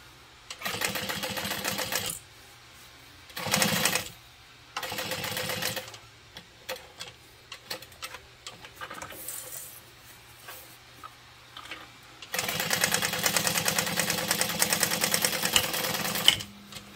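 Sewing machine backstitching a slip pocket on a triangle bag, several short bursts of rapid mechanical stitching separated by pauses, ending in a longer continuous run.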